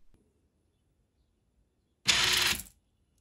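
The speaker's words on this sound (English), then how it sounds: "The next clip is exactly the same mechanism, but I adjusted the rotation value in the code, and now it dispenses 10 screws." A 3D printed sprocket mechanism for automatic screw packaging releases ten screws in one quick, loud clattering burst under a second long, after near silence.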